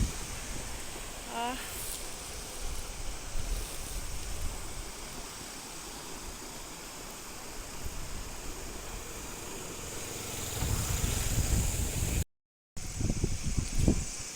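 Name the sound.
wind and flowing water at the Mal river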